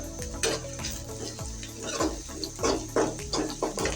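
Turmeric goes into hot oil in a pan for a Bengali kochur mukhi dish, bringing a bubbling sizzle with repeated scraping stirs and light utensil clicks, close and fairly loud.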